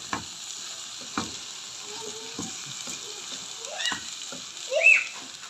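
Rice frying and being stirred in a pot while stuffed pigeon is prepared: a steady close sizzle with occasional scraping stir strokes and small bursts of spatter, no talking.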